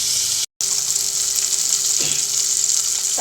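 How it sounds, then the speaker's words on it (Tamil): Tomatoes sauté in oil for brinjal kulambu, giving off a loud, continuous hiss and sizzle that cuts out for a moment and then comes back. A few soft stirring sounds mix in, and there is no talking. "தக்காளி நல்லா வதங்கட்டும்"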